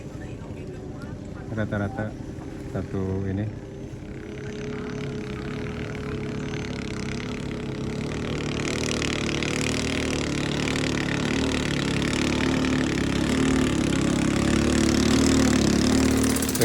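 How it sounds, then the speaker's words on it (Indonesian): A speedboat fitted with a 200 outboard motor pulls away from a river dock and keeps running, its engine drone steady and growing louder over the clip while people talk nearby. "Itu ada yang udah berangkat speednya, teman-teman. Langsung gas."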